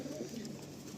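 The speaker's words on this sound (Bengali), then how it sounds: "আপনারা কিন্তু দেখছেন মালবাই পায়রা" A Punjabi Malwai pigeon coos faintly in a short, low burble close by, with no talk over it.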